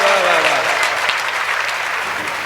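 An audience at a Hindi poetry gathering in Bisalpur claps steadily throughout, a dense wash of applause with a voice briefly audible at the start.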